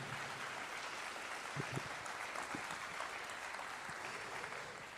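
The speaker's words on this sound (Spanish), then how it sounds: "Vamos a recibir con un fuerte aplauso" A church congregation applauds steadily at low level, a soft, even wash of clapping heard from a distance that continues throughout.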